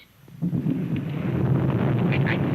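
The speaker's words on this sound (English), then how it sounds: "that noise you just heard with the thunder" A deep, rumbling roar builds quickly and rolls on steadily, like nearby thunder, with a faint higher whoosh near the end.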